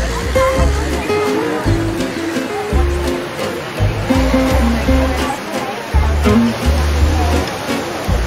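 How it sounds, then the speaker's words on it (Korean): Strong sea wind buffets a microphone on the coast near Melbourne, with waves and water rushing underneath in uneven low thumps, loud and close throughout, and no clear speech. "바닷바람이 엄청나네."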